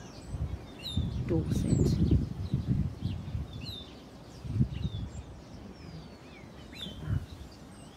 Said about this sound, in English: And it's just so lovely to hear the birds.